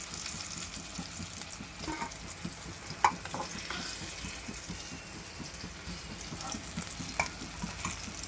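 Fish frying in oil in a pan for a village-style fried fish dish: a steady, moderately quiet crackling sizzle runs throughout, with a few sharper pops and light clicks, and nobody speaks.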